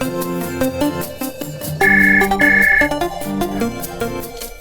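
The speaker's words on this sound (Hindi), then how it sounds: "दूरभाष की घंटी बजी" A telephone rings with a loud, melodic electronic ringtone, its repeating musical phrase playing alone for several seconds in an Indian TV drama scene.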